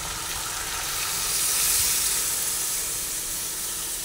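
Water poured into a pan of fried-down spiced chicken with oil released sets off a steady, broad sizzling hiss that swells slightly midway, close and continuous with no talk.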